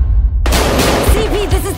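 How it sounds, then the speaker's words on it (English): A sudden loud burst of gunfire erupts in the Miami drug-war setting of the video game Battlefield Hardline, sharp and close, with a dense ringing tail that fills the short moment. "We've got gunshots."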